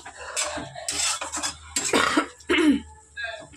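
Chicken pieces browned with ginger in a pan, scraped and stirred with a utensil in a few irregular bursts of clatter and sizzle, close up with no talking.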